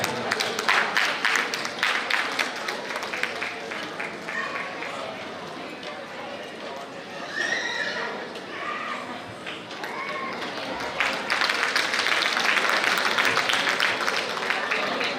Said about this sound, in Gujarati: આપ સૌની તાળીઓ જોરદાર